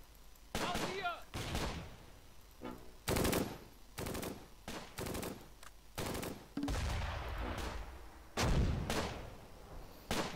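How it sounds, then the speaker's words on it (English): Mortar and gunfire in the Close Combat: Gateway to Caen video game, a series of loud sharp bursts and rumbling blasts repeating through the scene, with brief lulls between volleys. "And their mortars are keep pounding on my troops."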